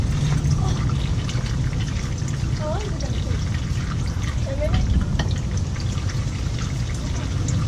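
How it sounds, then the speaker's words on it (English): Fluid pouring steadily from a 2012 Dodge Ram 1500 into a catch pan, a continuous close splashing trickle throughout, with a voice speaking over it. "there's a lot of fluid coming out of here"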